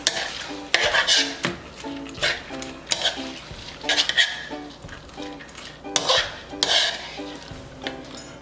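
Metal utensils scrape and clatter against a wok in irregular bursts, with food stir-fried and tossed over a faint sizzle, close and moderately loud.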